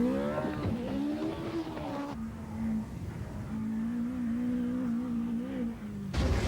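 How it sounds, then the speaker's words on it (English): Group B rally car engines racing across a desert, a sustained loud engine drone with pitch rising and holding steady, fairly close and alone without talk, cutting off sharply near the end. "Group B cars can still be seen and heard tearing up the desert"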